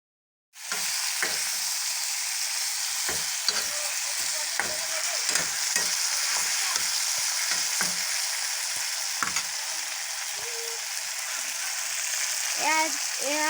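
Pieces of small local chicken sizzle loudly in hot oil in a pan, a steady close frying hiss broken by repeated scraping stirs and clinks, with a voice briefly heard in the background.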